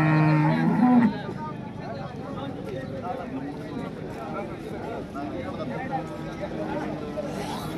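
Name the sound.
cow mooing at a cattle market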